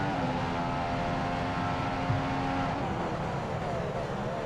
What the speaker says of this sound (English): Oh, turbo noises there. Ooh, we like turbo noises.